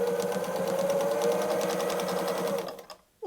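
A sewing machine runs steadily with a rapid, even mechanical rattle while free-motion stitching around a small quilted patch for a pot holder, close and alone, stopping abruptly near the end.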